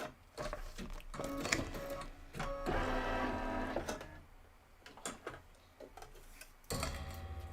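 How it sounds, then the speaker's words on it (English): An embroidery machine stitches out toadstool stem detail, a fast, steady mechanical chatter of needle strokes that pauses briefly and resumes, close and clear with no talking. "this is stitching out Toadstool 2 stem detail"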